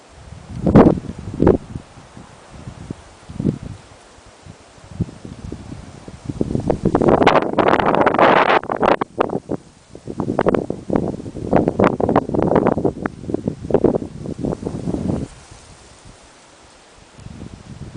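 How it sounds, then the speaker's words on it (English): Wind gusts outdoors during a fishing trip, buffeting a hat-mounted camera's microphone in loud, rustling bursts that swell in the middle and ease toward the end. "Breeze here. The wind should die down."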